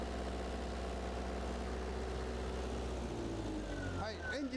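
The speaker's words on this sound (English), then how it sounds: "Stop the engine, please." A car engine idles with a steady low drone during a cooling-water circulation demonstration, then is switched off and winds down to near silence in the final second, faint throughout.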